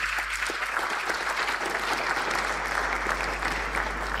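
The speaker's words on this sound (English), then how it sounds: "I think we can give him another round of applause." Audience at a legal education colloquium in Ghana giving steady, continuous applause, a dense even patter of many hands over a low electrical hum, with faint voices beneath.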